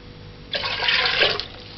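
Water pours steadily into a soup pot with beef, making a close, full rushing splash that lasts about a second before easing off.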